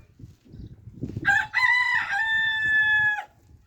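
A rooster crows once, loud and close, a long harmonic call over low street rumble after a short lead-in of background noise.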